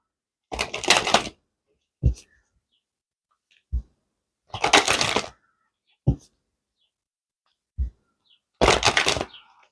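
Tarot cards are shuffled in three short riffling bursts, crisp and close, separated by sharp taps and clacks of the deck squaring against a surface, with quiet pauses between.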